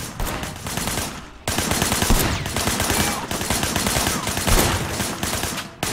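Rapid gunfire rattles in the video game Sleeping Dogs, dense bursts of loud automatic shots with a brief gap near the start, close and continuous with no speech.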